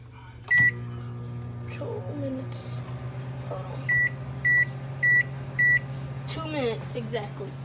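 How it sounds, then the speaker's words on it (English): A microwave oven heats a mug cake batter for two minutes, a steady low hum running throughout, with a loud beep near the start and four evenly spaced beeps later, while a person talks over it. "let's put this in the microwave for 2 minutes."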